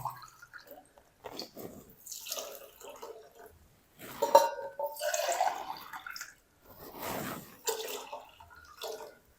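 Water, about one and a half litres, is poured into a pot of mixed dal seasoned with crushed red chilli. Splashing and trickling comes in uneven bursts, louder in the middle and toward the end.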